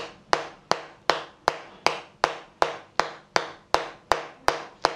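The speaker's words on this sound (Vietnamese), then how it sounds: "chúng ta gõ từng nhịp từng nhịp chúng ta gõ khoảng 20 đến 30 tiếng đếm" Small hammer tapping an acupressure point on the body, eleven sharp even knocks at a steady slow rhythm, close and clear with each tap fading quickly.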